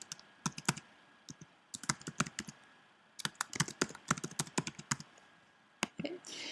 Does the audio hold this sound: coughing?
no